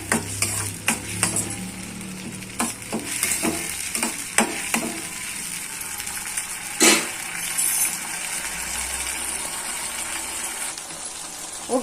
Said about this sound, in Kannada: ಇವಾಗ ಇದು ಹುಣಸೆ ಹುಳಿ ಚೆನ್ನಾಗಿ ಕುದೀತಾ ಇದೆ